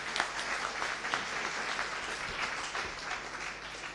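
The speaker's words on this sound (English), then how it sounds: "give a warm applause and welcome to Pierre-Antoine." An audience claps steadily throughout, a moderate wash of applause at some distance with no voices over it.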